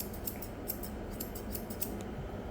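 Grooming scissors snip steadily through a curly-haired Shih Tzu's coat, a quick series of close, crisp metallic cuts in a fairly regular rhythm with no talking.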